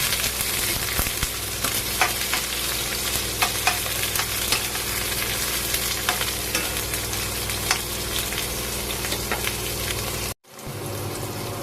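Squash and tomato being stirred in a hot frying pan, a steady loud sizzle with scraping strokes throughout, cutting off abruptly near the end.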